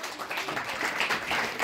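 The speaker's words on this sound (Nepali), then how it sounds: "सबैजनाले ताली बजाइदिनुहोस्" Crowd applause welcoming a guest at an annual youth convention in Rhenock, heard as a dense, steady patter of many hands clapping at moderate distance.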